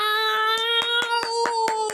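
A handful of sharp, evenly spaced hand claps from an audience in the game Lamar Idle ring out over a sustained musical tone, about seven distinct claps in quick steady rhythm.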